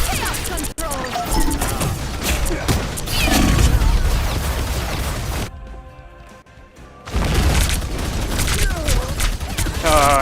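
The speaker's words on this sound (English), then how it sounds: "I didn't know that turret was active." Turret gunfire in a chaotic video game match, heard as dense bursts of shots and crashing impacts that run loud and continuous, drop out for about a second, then resume.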